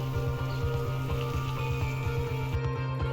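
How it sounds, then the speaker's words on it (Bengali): Spice paste (masala) for egg curry being sautéed in oil, a continuous close sizzle with a regular scraping rhythm from stirring, steady and moderately loud with no voices. "এটাকে কষাবো, মশলাটাকে কষাচ্ছি, দেখতে পারবে একটু তেল ছাড়বে।"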